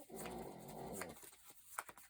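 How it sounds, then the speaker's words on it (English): A small dog snores indoors close by, a faint rumbling, growly breath for about a second followed by quieter snuffles and a brief sharp sound. "My dog's snoring."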